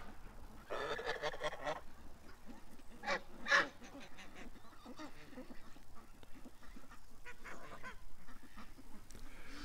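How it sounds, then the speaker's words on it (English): Geese and ducks being fed call out in a low, continuous honking and quacking, with one brief louder honk standing out among the steady chatter. "there's certain geese that just hang around me"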